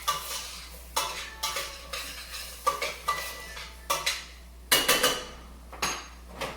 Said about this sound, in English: Stir those up, get those all coated in tomato paste, bacon fat, onion.